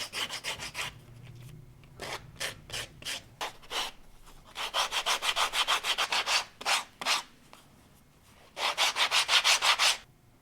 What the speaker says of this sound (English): Now all those little parts and little straps and all that small stuff needs some sanding and edge burnishing.